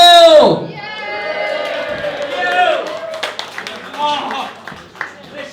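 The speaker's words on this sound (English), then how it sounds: "Applause that just dies away like the Scottish dream today" A crowd at a comedy gig in a brewery claps and cheers, moderately loud and scattered, while someone speaks over it and the applause thins out and fades.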